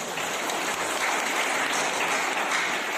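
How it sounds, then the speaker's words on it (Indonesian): Loud, sustained applause from a church congregation during a sermon, a thick continuous wash of clapping that holds steady from start to finish. "Ada tepuk tangan buat Tuhan Yesus."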